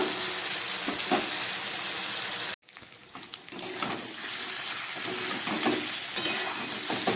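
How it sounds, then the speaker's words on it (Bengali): Ground spice paste of black pepper, ginger and dried chili frying with potato and paneer, a loud continuous sizzle broken by one abrupt near-silent cut before the crackling frying resumes steadily. "মশলাটা অনেকটা কষে গেছে"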